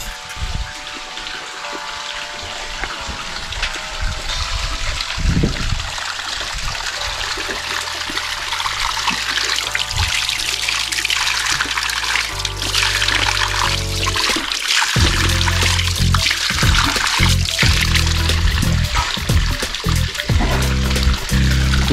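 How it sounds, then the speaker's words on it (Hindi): Water pours continuously from the Gomukh spring in the canyon at Kota, a steady broadband rush with a shifting, churning texture that holds throughout at close range, with no talk over it. "ये जो पानी है हमेशा चलता रहता है और ये ऊपर से आ रहा है और ये गोमुख से पानी निकल रहा है मेरे सामने"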